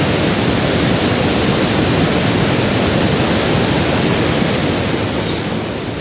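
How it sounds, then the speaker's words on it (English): Water pours steadily into a mid-breast wheel at a 200-year-old mill, a loud, continuous rushing roar with no pauses, close by and filling the whole clip, easing slightly at the end. "The water fills up into the wheel, not at the top and not at the bottom, but in the middle."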